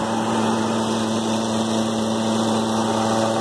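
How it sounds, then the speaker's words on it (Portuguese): A Fiat Firefly 1.0 three-cylinder engine idles steadily and close by, with a constant high whistle from a torn valve cover diaphragm running over the engine drone the whole time. No one talks. "a gente tem esse diafragma aqui, ó, que costuma rasgar e fazer esse barulho aqui, ó, muito forte, um assovio bem forte"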